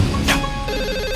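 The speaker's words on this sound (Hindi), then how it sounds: "पुष्पा जी जाइए, आपके डेस्क पे फोन बज रहा है, उठाइए जाइए।" A desk telephone rings loudly in an office, its bell tone repeating in short bursts with no voices over it.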